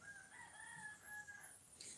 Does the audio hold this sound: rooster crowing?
yes